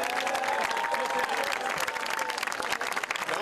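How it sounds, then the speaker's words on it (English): Graduating students clapping for their parents and families at a graduation ceremony, a full crowd applauding steadily and loudly, tapering slightly toward the end with a few voices mixed in. "I want the students here to clap for you"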